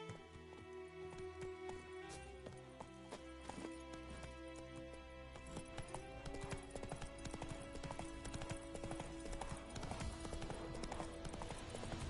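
The horse Roach trots along in The Witcher 3, its hooves making a steady, rhythmic clip-clop that grows denser and louder, with a whinny and a game music bed underneath.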